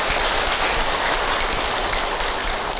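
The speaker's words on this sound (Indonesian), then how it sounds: "Tepuk tangan untuk Ustadz Encep." Loud, dense audience applause for a preacher at a religious talk show, a continuous roar of many hands clapping close by with no voices over it.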